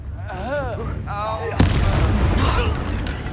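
A Confringo blasting spell fired in Hogwarts Legacy: a sharp, loud crack that gives way to a sustained roaring, crackling burst. A voice speaks just before the blast.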